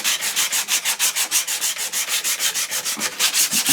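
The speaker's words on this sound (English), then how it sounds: "I'm going to sand with the jarrah" Steady back-and-forth sanding of glued-up jarrah wood for a cupboard door, a close, loud rhythmic rasp with even strokes about five per second and no talking.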